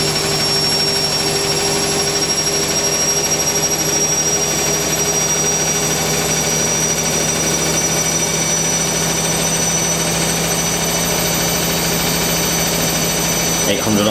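A Candy Smart CBD485D1E/1-80 integrated washer dryer spins at high speed, a steady loud whine and rumble with a sustained tonal hum, running evenly throughout.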